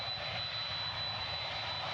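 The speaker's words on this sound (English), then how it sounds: "Getting some engine blast from these big engines from the 777." Big jet engines of a Boeing 777 roar at an airport, a steady broad rushing blast with low rumble and a thin high whine, continuous and fairly distant.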